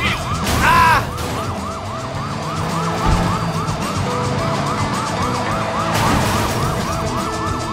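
Police sirens wail continuously through a car chase in the video game Sleeping Dogs, with a repeating rising-falling tone over engine rumble and traffic noise, loud and close throughout.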